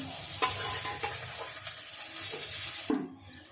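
Ground masala for bitter gourd sautés in a pan with a close, steady sizzle and scraping stirs, ending abruptly with a brief splash of running water.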